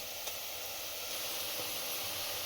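Ingredients frying in a pan until golden for chicken biryani: a continuous, even sizzling hiss at moderate volume with no voices.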